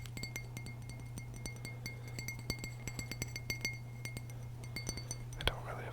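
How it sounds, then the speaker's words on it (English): Glass clinks softly and repeatedly in a quiet ASMR setting, sharp delicate taps in an irregular rhythm over a steady low hum, with whispering underneath. "Glass is a very nice sound."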